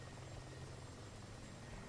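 Mi-24 Hind attack helicopter in the DCS flight simulator, its rotor and engines giving a steady, throbbing low drone that runs unbroken and fairly faint, with no talking.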